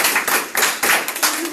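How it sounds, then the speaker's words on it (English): An audience gives a brief round of applause at a Fresno Freedom School SANKOFA community gathering, the clapping loud and dense in short uneven bursts, with no talk over it. "Can we give her a round of applause?"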